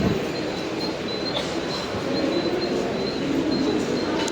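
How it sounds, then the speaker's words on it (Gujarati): A Mumbai local train pulls into Andheri railway station with a loud, continuous rumble and rattle of wheels, a faint high squeal riding above it, no voices. "બસ હવે આપણે ટ્રેન આવવાની તૈયારી જ છે"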